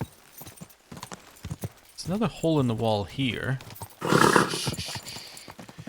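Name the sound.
horse hooves while riding in video game Kingdom Come: Deliverance II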